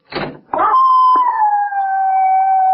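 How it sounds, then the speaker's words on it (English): A knock or thump is followed by a dog's long, loud, wavering howl that holds steady and fades slowly, close and alone in an old radio drama. "Why don't you complain to the neighbors about that dog?"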